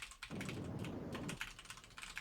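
Fast, steady clicking of keys on a computer keyboard, quiet and close, with a brief pause partway through and no voices.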